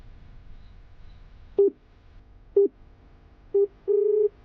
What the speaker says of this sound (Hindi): The person you are calling is currently busy. Please call again later.